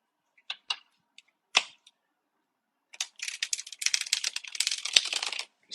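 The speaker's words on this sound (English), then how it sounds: "Divya, I'm shuffling up your cards." Tarot or oracle cards shuffled by hand for a reading: a few isolated snaps and riffles at first, then a dense, continuous papery flutter of cards being riffled near the listener, with no talking.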